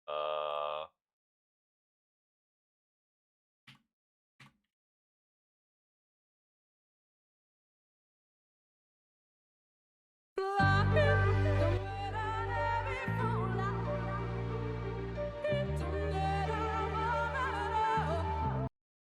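Original zone music from Final Fantasy 14, a dense layered orchestral track with steady low bass, entering loud after a long near-silent stretch with only a couple of faint blips and running to the end.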